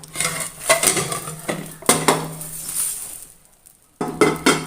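An egg omelette being flipped in a pan, with sharp clinks and scrapes of a utensil against metal cookware over a soft background sizzle, several irregular close knocks and a pause before a final clatter.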